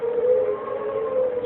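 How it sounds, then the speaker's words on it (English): A steady, wailing tornado warning siren in Arkansas during a tornado outbreak, holding one sustained tone, loud and continuous without voices. "Setting off warning sirens"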